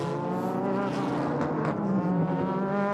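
Super GT race cars on the Okayama circuit in 2006, engines droning steadily at high revs as they pass, a continuous loud whine without voices.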